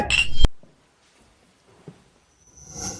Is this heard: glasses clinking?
yes